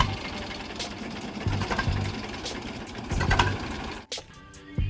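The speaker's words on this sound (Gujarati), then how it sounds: "આપ જોઈ શકો છો ટ્રેક્ટર ફૂલ, તેમનો અવાજ ખૂબ સારો એવો છે" An old 2014 Eicher 368 tractor diesel engine chugs steadily with a rough, knocking rhythm, close by, briefly cutting out near the end before picking up again.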